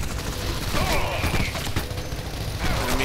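Gunfire in the video game Shadow Warrior 2, rapid bursts of shots rattling over a busy background of in-game noise, moderately loud with brief pauses between volleys.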